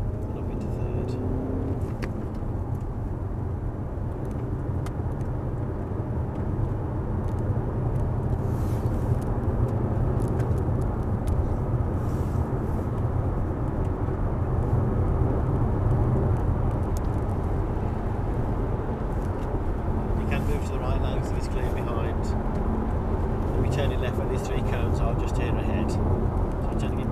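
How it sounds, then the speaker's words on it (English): Mazda 6 car accelerating and shifting up through the gears on a proving ground test circuit, a steady loud engine and road drone heard from inside the cabin, with someone talking over it. "And up through the gears into second. And up into third."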